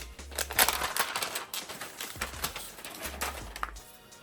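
A Lenovo ThinkPad X1 Fold 16 Gen 1 keyboard and stand being handled, with irregular clicks, taps and plastic clatter close by, plus a few low thumps and no speech.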